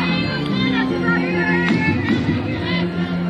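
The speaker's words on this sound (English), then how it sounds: "Crowd still enthusiastic and still here." Crowd noise at a college softball game between Charlotte and Clemson, a steady murmur of spectators and scattered cheering held at an even level across the clip, with no clear talk standing out.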